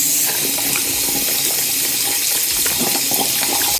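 Tap water pouring steadily over a hand at a sink, a loud, close, continuous splashing rush with no pauses.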